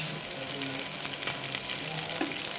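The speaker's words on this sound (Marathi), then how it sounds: "तूप तापले, तुपामध्ये टाकते आता मी डिंक" Grated edible gum (dink) fries in hot ghee with a dense, continuous close sizzle and faint bubbling that hold steady throughout.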